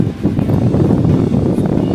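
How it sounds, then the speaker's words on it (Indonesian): A repaired Cosmos donut-model electric fan runs at speed 3, its blades producing a loud, close, steady whooshing drone with no speech. "lihat putaran daun kipas angin ini sudah kembali kencang normal"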